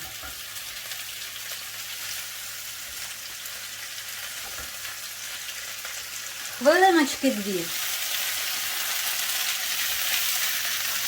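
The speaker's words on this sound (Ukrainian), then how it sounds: "відправляємо на сковорідку, підсушуємо трішечки її, обжарюємо" Steady sizzling of green beans frying in a pan, with a brief spoken phrase in the middle and the frying growing slightly louder afterward.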